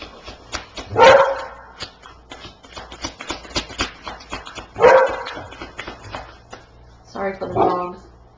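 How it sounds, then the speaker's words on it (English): Several dogs bark indoors in sharp bursts, two loud close barks and a later volley, with yips and background chatter between them. "Sorry for the dogs. I don't know why they're barking."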